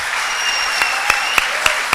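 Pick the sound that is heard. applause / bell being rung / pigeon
applause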